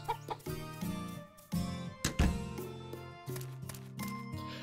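A silky chicken on the farm in Story of Seasons: Pioneers of Olive Town gives a run of short, loud clucks against bright background music.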